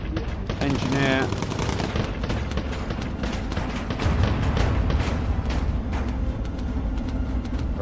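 Rapid machine gun fire from a bomber's gun turret in the video game Bomber Crew, loud and sustained bursts of gunfire with explosions, with a voice talking partly over it.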